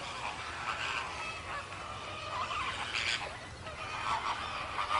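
A flock of flamingos calls continuously, a dense, honking, goose-like chatter of many overlapping voices at moderate distance, with a few louder squawks standing out.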